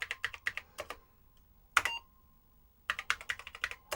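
Keys on a restored Apple IIe keyboard clack in two quick bursts of typing, a single heavier strike between them, with steady close-up keystrokes over a faint background hum.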